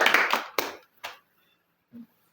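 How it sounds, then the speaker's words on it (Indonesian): A classroom gives brief, scattered applause, a few claps bunched at the start and then tapering to isolated claps, with a voice heard at the end. "ayo tepuk tangan buat kita semua ya."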